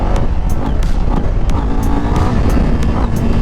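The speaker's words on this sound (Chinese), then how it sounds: "在2档的状态下猛给油" A Qjmotor Race 450 motorcycle revved hard in second gear, its engine roaring continuously and loudly with regular crackling pulses throughout.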